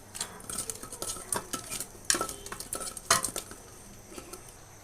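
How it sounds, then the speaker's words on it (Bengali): Raw rohu fish being mixed by hand with salt and turmeric in a bowl, giving quiet, irregular clinks and soft scraping knocks with no talk. "রুই মাছটাকে এখন মেখে নেব।"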